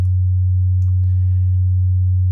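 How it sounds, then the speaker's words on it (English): A steady low sine tone runs through the Airwindows Shape plugin, loud and continuous, with faint higher harmonic texture appearing briefly partway through. "We're demonstrating it on the sine wave, so it's really obvious what's going on."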